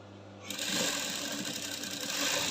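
A sewing machine topstitching the seams of a shift gown starts up after a brief quiet moment, then runs with a steady, close, continuous mechanical whir until the end.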